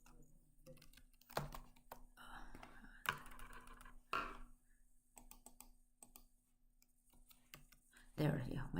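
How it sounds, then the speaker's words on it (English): Computer keyboard typing comes in bursts of quick clicks and taps, fairly close, mixed with soft speech and low background hum. "There, yeah, my keyboard is back."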